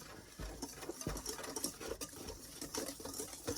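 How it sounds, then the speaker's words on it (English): Dry biscuit ingredients, including cream of tartar and baking powder, being whisked together in a bowl, giving a quiet, busy patter of rapid soft taps and scrapes. "Now we're going to whisk all that together."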